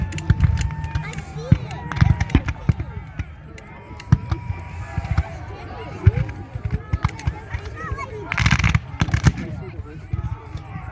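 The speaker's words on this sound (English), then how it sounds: "Did you see they were walking forward and shot?" Musket volley from Civil War reenactors at the 160th anniversary Cedar Creek battle reenactment, with sharp irregular gunshot cracks scattered among crowd noise and people talking nearby.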